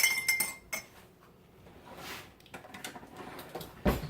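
A utensil clinks and scrapes against the metal inner pot of an Instant Pot during a quick stir, in a few sharp bursts with quieter handling between, near and without speech.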